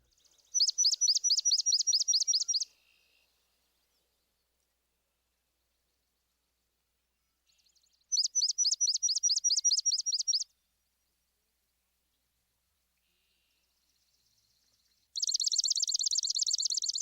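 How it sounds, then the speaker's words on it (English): Swamp sparrow song: three separate bouts of slow, evenly spaced chips running into a reedy trill, clear and fairly close against a silent background, with the last bout louder and denser. "the slow chipping and reedy trill of the swamp sparrow"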